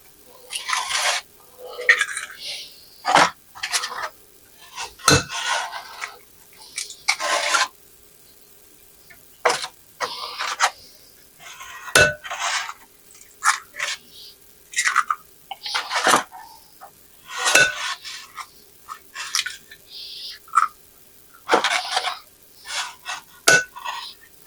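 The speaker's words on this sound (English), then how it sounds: "push your finger up under it, it'll pop those eggs out without breaking them" Baked quiche eggs pushed up and popped out of a muffin-style pan one after another, a long run of close, irregular soft knocks, scrapes and clinks with short pauses between them and no talking.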